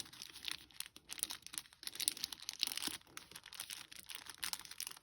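Close, quiet crinkling and rustling of paper being folded in half to make a mini botanical blizzard book, with soft irregular crackles throughout and no talking.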